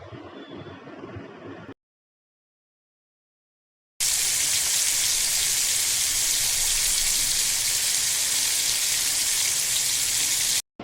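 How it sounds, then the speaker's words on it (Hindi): Chicken sheesh kabab on wooden skewers frying in hot oil, a loud, steady sizzle and crackle that starts abruptly after a short quiet gap and keeps hissing without pause, close up. "अब इसे हम तलने के लिए रख देंगे"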